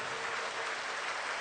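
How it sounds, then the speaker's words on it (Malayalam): A church congregation at a retreat claps hands together in a steady, dense wash of sound during a prayer gathering, loud and continuous without a break. "കരങ്ങൾ ഉയർത്തി കൈയടിച്ച് കൈയടിച്ച് കൈയടിച്ച്."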